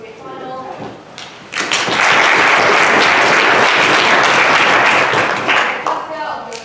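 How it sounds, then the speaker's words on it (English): An audience at the Colgate Open 2019 final breaks into loud, sustained applause for the finalist teams, swelling after a moment of speech and then fading as talk resumes. "I'd like to invite a big round of applause for all the teams that have been successful in getting to the Colgate final."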